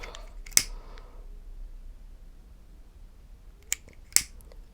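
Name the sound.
cutting ribbon with scissors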